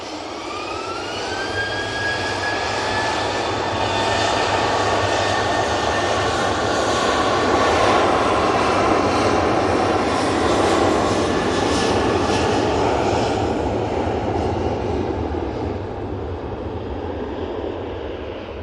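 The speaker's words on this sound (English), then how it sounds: "Ryanair 737-800 is off to Cologne." Ryanair Boeing 737-800 jet departing Manchester Airport, a loud sustained engine roar with a rising whine that swells to a peak mid-way and then slowly fades as the aircraft climbs away.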